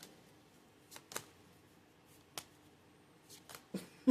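A few soft card riffles and flicks scattered across a quiet room, short bursts separated by pauses, ending with a louder shuffle.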